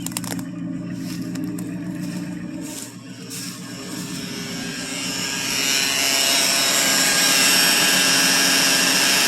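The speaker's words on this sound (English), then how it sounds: "this thing is a nice, smooth running engine though" A 1963 Ford Thunderbird with a 390 FE V8 idles steadily after a cold start following three years unused, its low rumble becoming louder and fuller as it is revved slightly, with no talking.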